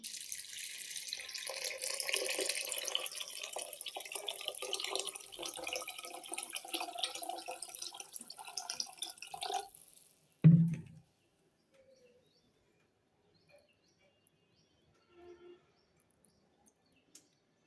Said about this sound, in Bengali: আমি আজকে কর মেপে রান্না করব, সেই জন্য এখন জল দিয়ে দিচ্ছি।